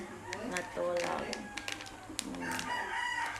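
A rooster crows in the distance over ongoing conversation, with a few clicks and bumps nearby.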